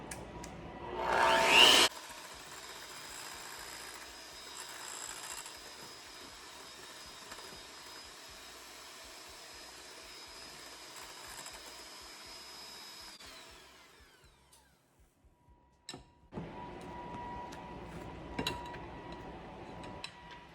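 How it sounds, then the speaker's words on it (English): An electric mixer blending bread ingredients runs as a steady whirring motor hum for a long stretch, stopping briefly and then starting again, with a short louder burst at the very start. "Now we're going to just mix those together."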